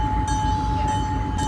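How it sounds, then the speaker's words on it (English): The Napa Valley Wine Train passes close by as a steady, loud rumble of rail cars, with a sustained whine and short bursts of higher hiss over the continuous roar. "That's the train right there."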